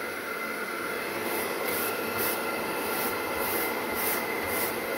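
A DIY vacuum cleaner running on a 12-volt battery gives a constant, loud, airy roar with a faint pulsing in the upper hiss. It is heard close up without speech.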